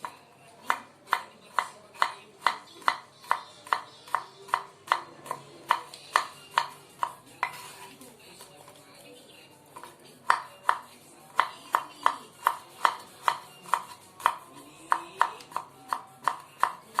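A knife chops through sliced spices thinly on a board, giving a steady run of crisp, close taps that pause for a few seconds midway and then resume at the same quick rhythm.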